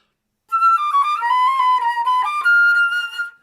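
A flute plays a Köhler etude passage, leaning into the final four notes with heavy, weighted emphasis; the bright tone sounds close and strong, each note pushed firmly until the phrase ends.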